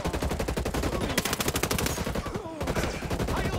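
Rapid automatic gunfire in the video game Ghost Recon: Breakpoint, a dense, loud burst of repeated shots with a brief gap before firing resumes, close and forceful with faint voices mixed in.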